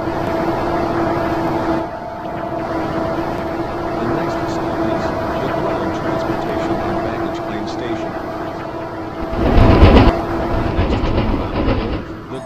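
A Roblox video game airport train rumbles along steadily with a droning hum and rattling, and a louder whoosh surges near the end; no one speaks.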